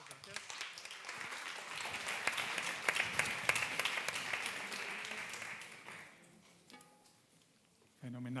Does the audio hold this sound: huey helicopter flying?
no